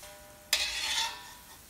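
Gulab jamun dropped into hot oil bursts into a sudden bright sizzle that holds steady for about a second, then slowly eases, close and fairly quiet.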